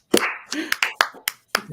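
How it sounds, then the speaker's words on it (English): A few scattered hand claps, sharp and close, in an irregular patter of about six claps over a couple of seconds, as a small group applauds the X-Men. "Let's have a round of applause for the X-Men."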